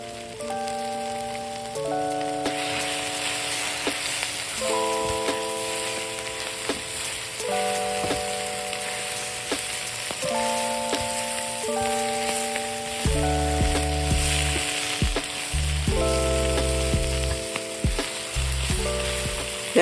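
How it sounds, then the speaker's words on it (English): Fresh spinach fries and is stirred in hot oil in a pan for a meatless pasta, giving a constant crackling sizzle with occasional stirring scrapes under steady background music. "Now I'm going to stir this spinach just a little bit so that the oil can get on it"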